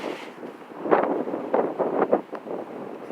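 Chilly wind whipping hard outdoors under a cloudy sky, roaring and buffeting the microphone in loud, uneven gusts that surge and ease over a few seconds, close and steady, with no talk.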